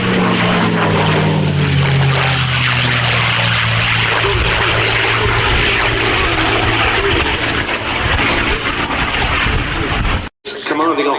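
At the Duxford Summer Air Show, a P-51 Mustang propeller fighter flies past as a loud, sustained piston-engine roar whose pitch slowly shifts and stays strong throughout. An announcer talks over it, and the sound cuts out briefly near the end.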